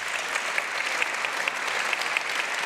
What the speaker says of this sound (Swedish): Kan inte de få varma applåder?